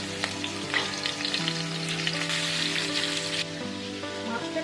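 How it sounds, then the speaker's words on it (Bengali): Jhatka fish coated in salt and turmeric sizzle in hot oil in a pan, a loud, steady crackling fry with bursts of spattering and no talking. "এবারে আমি লবণ হলুদ মেখে রাখা মাছগুলোকে দিয়ে ভেজে নেব।"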